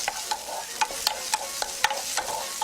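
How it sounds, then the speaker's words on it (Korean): Mushrooms and onions frying in a pan, with a steady sizzle and repeated scraping strokes of a spatula stirring at a regular rhythm, close by. "버섯을 넣어서 버섯이랑 좀 감칠맛이 모두 빠져나올 수 있도록 충분히 볶아주겠습니다"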